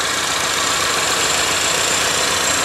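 A 2014 Chevy Equinox LS with the 2.4 engine idles steadily with the hood open, a close, even, continuous hum with no talk over it.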